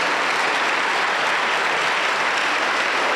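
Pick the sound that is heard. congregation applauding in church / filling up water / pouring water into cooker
congregation applauding in church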